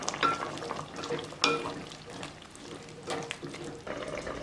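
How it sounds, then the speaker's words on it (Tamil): Tamarind water is poured into a pot of drumstick (murungakkai) sambar, producing a close, uneven splashing and bubbling sizzle with a few sharper splashes as the liquid goes in. "இப்போ புளி தண்ணி ஊற்றிக்கலாம்."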